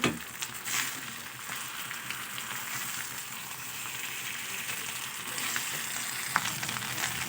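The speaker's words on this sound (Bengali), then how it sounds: "আমার আলতো হাতে এটা খুব ভালো করে মিশিয়ে নিয়েছি" Cooked rice being gently mixed as it fries in a pan gives a continuous, dense sizzle with soft stirring scrapes running steadily throughout.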